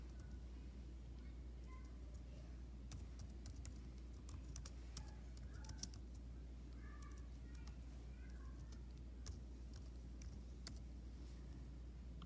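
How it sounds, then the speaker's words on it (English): Steady typing on a computer keyboard while entering text into a website builder, quiet keystroke clicks running throughout over a low constant hum, with faint speech in the background. "And we're going to type professional goals."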